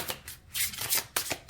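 Heavy, thick tarot cards are shuffled in several quick, riffling bursts with soft slaps between them, close to the microphone and with no talking.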